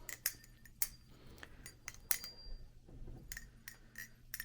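A butterfly knife being flipped by hand, its handles snapping open and shut in a series of sharp metallic clicks and light ringing clinks, spaced irregularly and heard close up without talk.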